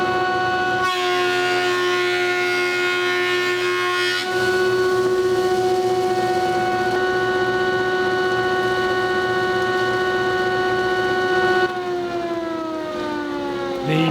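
A thickness planer thins the back of a wooden guitar blank, a steady loud mechanical whine with strong sustained tones running unbroken for the whole stretch, shifting pitch slightly near the end as the cut finishes.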